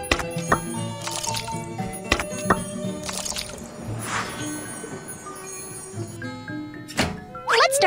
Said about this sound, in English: let's pour the batter into the mold